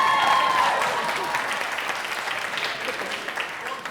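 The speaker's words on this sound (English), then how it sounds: "I think that deserves a round of applause." Audience breaks into a round of applause, a full burst of many hands clapping that starts loud and slowly tapers, with a faint voice briefly at the outset.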